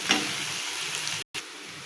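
Garlic paste and onions frying in a pan, a steady bright sizzle that holds throughout with a brief cut partway.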